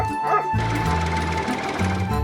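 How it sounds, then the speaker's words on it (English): A farm dog barks in a rural setting, a few sharp barks near the start followed by a steady mechanical drone with a constant whine. "Luckily, Amber, our farm dog, barks and alerts Sarah."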